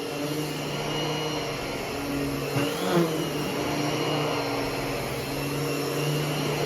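A Miele or Hoover vacuum cleaner hums steadily at close range, a constant motor whine with a brief pitch wobble midway.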